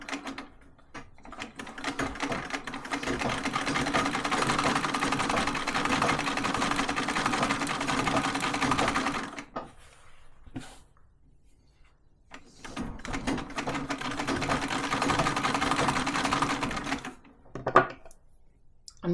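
A treadle sewing machine quilting a patchwork table topper, a steady close mechanical whirring with rapid needle clatter that runs for about nine seconds, stops briefly, then resumes for several more seconds.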